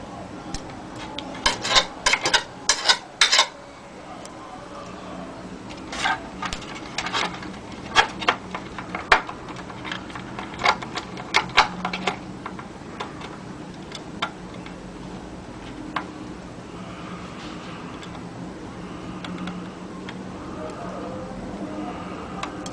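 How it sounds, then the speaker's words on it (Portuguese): A magnetic-tipped screwdriver drives screws into the power transformer of a micro-system stereo, close up: scattered sharp metallic clicks and small rasping turns, bunched thickly at first and then sparser. "Fica mais fácil parafusar. Agora fazemos o mesmo com outro parafuso."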